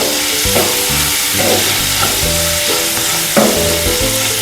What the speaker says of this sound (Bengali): আমি ম্যারিনেট করা চিকেনটা দিয়ে দেবো